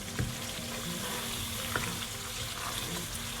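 Green chilies drop into a pan of cooked lamb over high heat where the oil has separated, setting off a constant close crackling sizzle with a couple of light clatters from the spoon and no talking.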